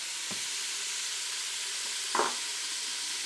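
Food seasoned with a tablespoon of Cajun seasoning sizzles steadily in a pot, with a couple of brief stirring clanks over the constant frying hiss.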